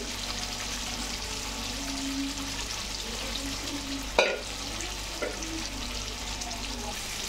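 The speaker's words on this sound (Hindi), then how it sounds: "बस इसे 2 मिनट हम शैलो फ्राई करेंगे" Mutton shallow-frying in a pan gives a steady, close sizzle throughout, broken by one sharp utensil clank partway through and a smaller knock shortly after.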